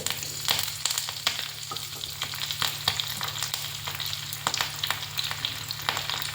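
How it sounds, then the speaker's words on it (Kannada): Urad dal, pepper and curry leaves crackle in hot oil for a tempering, a steady sizzle dotted with sharp pops and spatters throughout, close and moderately loud. "ಸ್ವಲ್ಪ ಉದ್ದಿನಬೇಳೆ, 1-2 ಮೆಣಸು ಮತ್ತು ಕರಿ ಲೀವ್ಸ್,"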